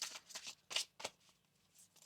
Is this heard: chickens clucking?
no